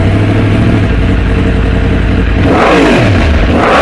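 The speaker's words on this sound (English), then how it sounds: "I'm going to try and rev bomb it for you now" A 2023 Yamaha MT10 motorcycle fitted with a Leovince midpipe decat exhaust idles loudly close by, then revs up hard near the end with a rising, snarling engine note.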